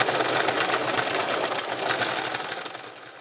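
A sewing machine stitches fabric with the presser foot down, a close, steady rapid whirring chatter that runs for about three seconds and slowly fades toward the end, with no talking.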